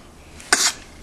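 A single sneeze rings out clearly, a short sharp burst lasting a fraction of a second, close by and otherwise alone in a quiet room.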